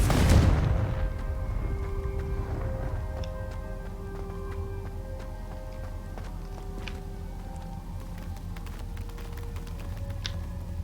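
Confringo blast spell cast in the video game Hogwarts Legacy, a loud burst at the start that decays into ringing tones, ticks and a lingering ambient game hum.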